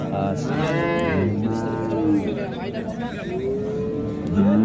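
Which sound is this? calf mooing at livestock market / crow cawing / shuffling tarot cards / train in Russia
calf mooing at livestock market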